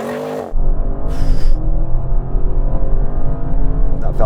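Audi RS7 Performance launching hard and accelerating, a loud, close engine roar building steadily with rising pitch after a brief quieter lead-in, a short high whine partway through.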